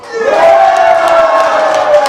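A lecture audience at a healing camp event bursts into cheering and shouting, a loud crowd roar that rises quickly and holds for about two seconds.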